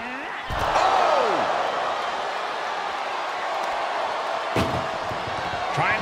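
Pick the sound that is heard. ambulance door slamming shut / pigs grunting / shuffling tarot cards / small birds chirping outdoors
ambulance door slamming shut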